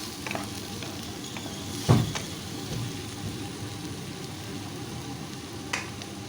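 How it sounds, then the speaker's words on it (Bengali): Ginger, garlic and chili paste with spices fry in oil while being stirred for a fish curry, a steady soft sizzle with occasional louder scrapes of the spoon against the pan. "আদা রসুন লঙ্কার পেস্টটাও দিয়ে দিলাম সমস্ত মশলাটা বেশ ভালো করে একটু কষিয়ে নিচ্ছি"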